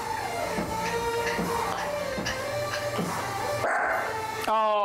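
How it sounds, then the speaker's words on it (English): Small dog barking outdoors on a short golf course, several sharp yips in an even rhythm against steady background hum. "yeah, he's barking. You're barking now."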